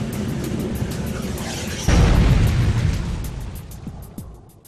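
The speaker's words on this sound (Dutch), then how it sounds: "Dit heeft geresulteerd in een explosieve verbranding, ook wel deflagratie genoemd." A deflagration explodes inside a cargo tank of a chemical tanker: a sudden deep, heavy boom bursts over a steady rumbling background, then rolls away and fades over several seconds.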